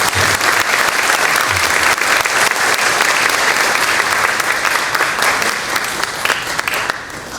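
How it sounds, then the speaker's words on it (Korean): Audience at a university president's inauguration service applauding, a loud, steady wall of clapping filling the hall throughout and easing slightly at the end. "큰 박수 부탁드립니다"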